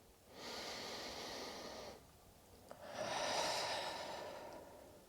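Two long, airy breaths during a runner's lunge in a yoga flow: a steady exhale of about a second and a half, a short pause, then a fuller, louder breath. Both are close and soft, with no talking over them.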